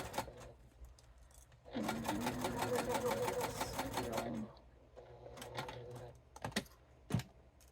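A sewing machine back stitches a bifold wallet in quick rattling bursts, a long steady run in the middle followed by shorter stitches and a few clicks, fairly quiet and close with no talk.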